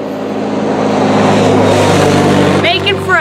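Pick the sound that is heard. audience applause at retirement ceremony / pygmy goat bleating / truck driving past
truck driving past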